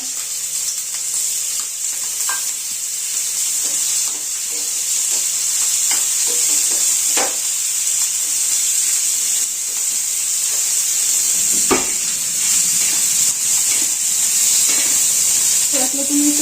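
Fresh green moong bean pods sautéing in hot oil in a pan give a steady, close sizzle throughout, broken by occasional scrapes and clinks of stirring, with a little talking in the background.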